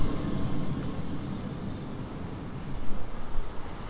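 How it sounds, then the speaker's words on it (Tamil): A four-car local train runs at night in Train Sim World 4, giving a steady low rumble and rolling rail noise throughout, swelling slightly louder toward the end, with no talk over it. "இந்த ட்ரெயின் போகுது"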